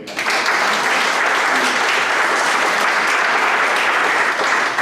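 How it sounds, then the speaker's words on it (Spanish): At a book presentation in Cauca, the audience gives a sustained, loud round of applause for a new doctor in humanities, a thick, even roar of clapping that starts abruptly and holds steady. "Pido un aplauso."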